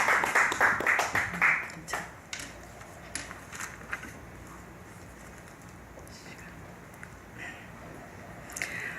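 A church congregation claps to welcome a pastor to the front, with a burst of loud, close hand claps at first that quickly thins into scattered, fading claps over a quiet room.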